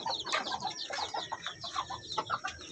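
Two-week-old Belgian Shamo cross Shamo Aseel chicks, an upgraded native chicken breed, chirp and cluck in a rapid, uneven stream of short peeps. The sound is fairly faint and near, with no talking.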